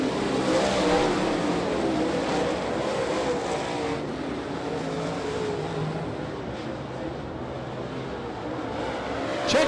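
Super late model race cars roar around Ponderosa Speedway, a dense, continuous engine drone of several cars at full throttle, loud and steady, rising and falling slightly as the pack passes.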